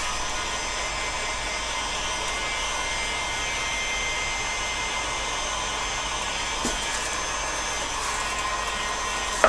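A heat gun or similar blower roars in a steady, unbroken stream while heating an asymmetric Scythian bow, loud and close throughout, with a faint knock or two near the end and no talking.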